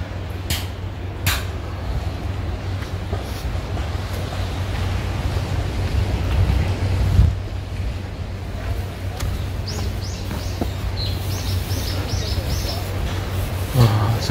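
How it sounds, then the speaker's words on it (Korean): Sea waves wash along the coast at Sogcheonji near Seogwipo, Jeju, making a constant rushing surf roar mixed with wind buffeting the microphone, with faint voices now and then. "야, 파도 소리가 너무 아름답다."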